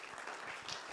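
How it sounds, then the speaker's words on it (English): Brief burst of audience applause welcoming a professor at a cybersecurity conference, a dense, steady wash of clapping filling the whole second without voices. "So let's welcome Professor Ngure by a clap"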